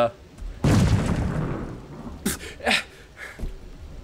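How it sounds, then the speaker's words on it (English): A bomb thrown and exploding in the Trove video game: a loud booming burst that decays over about a second, followed by a few shorter, sharper thuds, with a voice talking between them. "I hit R and threw a bomb there instead of E"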